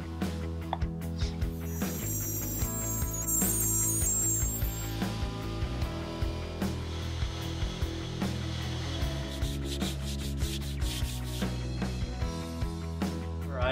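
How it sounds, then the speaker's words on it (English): Sandpaper rubs back and forth across the top of a wooden lazy Susan, worked down to 800 grit, in steady, close, rhythmic strokes with no talking. "I've given this a really good sand, down to about 800 grit on the top surface"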